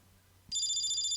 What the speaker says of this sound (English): But then someone's phone rang.